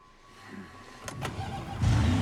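Car engine starting in the survival-horror game Resident Evil Requiem: a couple of quick mechanical clicks, then the engine turns over and settles into a steady near idle, rising in loudness toward the end.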